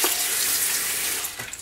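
Running water from a tap pours steadily over salt prints made from old plate negatives as they are rinsed, a close, continuous splashing hiss with a slight change near the end.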